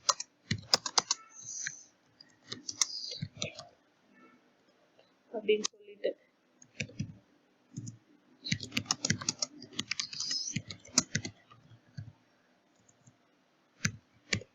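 Bursts of rapid clicking keystrokes on a computer keyboard, typing text in LaTeX, come in irregular clusters with pauses, close and fairly quiet, with someone speaking briefly between them.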